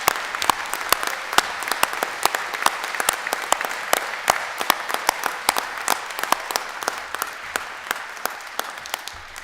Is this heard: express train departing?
no